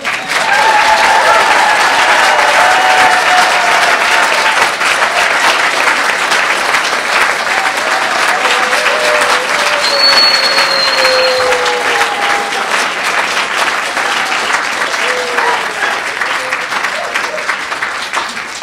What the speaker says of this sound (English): please will all the walkers in the room give themselves and each other a massive round of applause